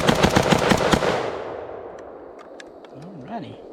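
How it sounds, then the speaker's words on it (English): An AR70 rifle fires a fast, loud string of close shots from its last magazine in the first second, then the echo dies away into quiet with a faint voice near the end. "AR70, last mag of the evening."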